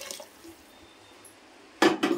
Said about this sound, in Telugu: చూడండి, నేను వేడి నీళ్ళు పోస్తున్నాను